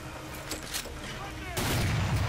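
Gunfire and cannon fire in the World War II shooter Medal of Honor: Allied Assault Breakthrough, a noisy stretch of shots that swells into a louder, heavier burst of battle noise midway through.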